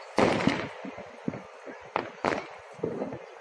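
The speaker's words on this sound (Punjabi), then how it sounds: "ਨਾਲ ਹੀ ਬੜੇ ਸ਼ੋਰਾਂ ਸ਼ੋਰਾਂ ਦੇ ਨਾਲ ਪਟਾਕੇ ਵੀ ਚਲਾਏ ਜਾ ਰਹੇ ਨੇ।" Firecrackers set off in Ludhiana during a night of candles and lamps, several sharp bursts cracking out at intervals, some close and loud, with crowd voices murmuring in between.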